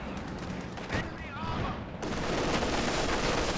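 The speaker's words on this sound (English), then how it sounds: "Incendiary rounds active on the machine gun." Machine gun fire in the real-time strategy game Company of Heroes 2, dense continuous rattling bursts with battle noise, heard under a commentator's voice.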